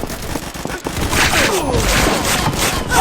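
Rapid bursts of shotgun fire in the video game Combat Master, loud, dense and close, blasts overlapping with crashing impacts and no pause between them.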